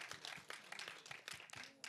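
An audience at a film promotion event for a romantic comedy claps in a brief, dense burst of applause, moderately close and fairly quiet.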